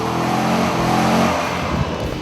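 A Mercedes-AMG convertible revs hard, a loud, close engine roar that climbs and then drops away, followed by rough, crackling exhaust bursts as it downshifts, with no talking.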